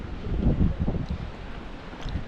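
Strong seashore wind buffets the microphone with a steady low roar and rumbling gusts, no voices present.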